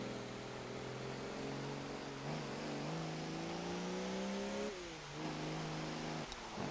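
A 2009 Audi Q7 with its V12 TDI diesel engine, driven in Forza Motorsport 7, revs hard and pulls through the gears, its engine note climbing steadily and dropping sharply at each upshift.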